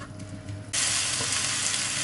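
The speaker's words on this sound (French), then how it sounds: "on va mettre cuire notre autre moitié d'oignon. On peut chauffer un peu plus mon huile." Half an onion lands in hot oil, and a quiet background hiss suddenly jumps into a loud, dense, close-up sizzle that holds steady to the end.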